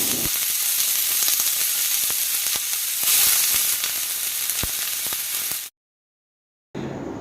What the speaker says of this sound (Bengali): তারপর একটা প্যান গ্যাসে বসিয়ে অল্প পরিমাণ তেল দিয়ে, তেলটা গরম হলে তাতে কেটে রাখা পেঁয়াজ